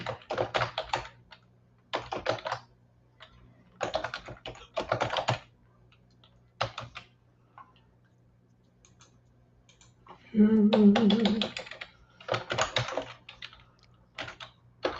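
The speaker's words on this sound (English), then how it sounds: "I have a noisy keyboard again, and I forgot how much I love it, but also how noisy it feels" Bursts of loud clicky typing on a noisy computer keyboard come in short clattering runs separated by pauses, with a brief murmured voice partway through.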